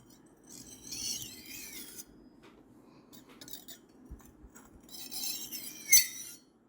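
Knife blade scraping back and forth on a wet 1000-grit sharpening stone, bursts of gritty high rasping in separate strokes with quiet gaps between, fairly close and moderately faint.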